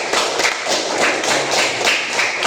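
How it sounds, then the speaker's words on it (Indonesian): Classroom audience applauding for group 2 during a teaching session, a dense steady burst of many hands clapping close by, loud and sustained with a slight rhythmic pulse. "Tepuk tangan untuk kelompok 2."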